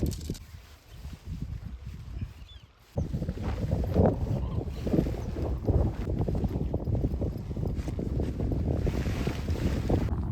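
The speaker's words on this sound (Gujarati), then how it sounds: "પવન વધારે છે, ટેન્ટ બરાબર નથી લાગતું" Strong wind buffets the microphone in heavy, continuous gusts beside a forest lake campsite while pitching a tent, rumbling loudly after a quieter opening few seconds, with no voices.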